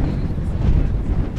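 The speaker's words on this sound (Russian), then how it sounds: "Ветер сильнейший просто сегодня." Very strong wind in a village garden in May, buffeting the microphone with a loud, continuous low rumble and gusts throughout.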